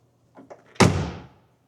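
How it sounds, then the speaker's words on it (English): The heavy door of a 1971 Mercedes-Benz 300 SEL 3.5 shuts with a solid, deep thunk after a few faint handling sounds, its low boom decaying briefly in a quiet setting. "Listen to this door."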